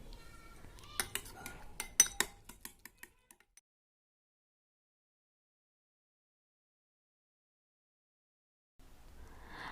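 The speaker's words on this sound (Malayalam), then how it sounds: "എന്നിട്ട് ഇത് നല്ലപോലെ ഒന്ന് മിക്സ് ചെയ്ത് കൊടുക്കുന്നുണ്ട്." A spoon clinks quickly against a bowl while mixing soaked chia seeds with honey and cardamom, a close run of bright taps over the first few seconds before everything falls silent.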